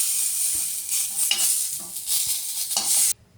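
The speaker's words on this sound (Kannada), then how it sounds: "ಅವನು ಎಣ್ಣೆ ಹಾಕಿ ಫ್ರೈ ಮಾಡ್ಕೋಬೇಕು" Tomato frying in oil in a pan, a steady bright sizzle with soft stirring scrapes, close and continuous until it cuts off abruptly near the end.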